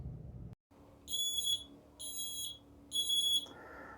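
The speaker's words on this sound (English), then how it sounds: "After the fire, this smoke alarm is still sounding." A smoke alarm still sounding after a fire gives three shrill, evenly spaced beeps, each about half a second long, followed by a lower, altered tone at the end.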